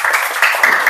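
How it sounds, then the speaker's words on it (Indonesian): Children clapping together for a classmate in a classroom, a dense burst of fast, uneven hand claps that stays steady and fairly loud for the whole second. "Tepuk tangan dulu buat Yunda."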